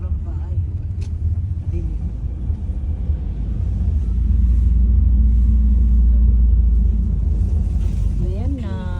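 Low, steady engine rumble from inside a moving family car, growing heavier partway through, with people talking over it throughout.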